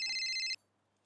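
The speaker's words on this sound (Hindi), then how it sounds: "फोन आया।" A telephone rings once in a home, a bright electronic trill lasting about half a second before cutting off into quiet.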